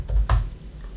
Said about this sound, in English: we're going to go ahead and shut down the computer again by typing in shut-down